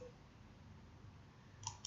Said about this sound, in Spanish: Hago un clic ahí